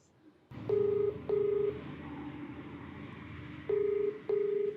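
Four steady, loud DTMF keypad tones from a telephone as a call is dialed, each lasting about half a second, set against a low hum of background noise.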